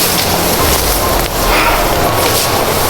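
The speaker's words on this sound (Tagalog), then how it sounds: "Ang lakas ng ulan to." Heavy rain pouring down steadily, a loud, dense hiss with no break, close by and without talk.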